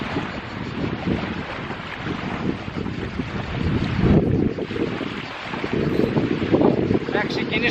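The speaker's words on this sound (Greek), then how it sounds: "Ξεκινάει τώρα κόντρα αέρας και δεν μου άρεσε" Strong headwind buffets the microphone at sea while spin fishing by open water, gusting louder midway, with waves and a low rumble beneath.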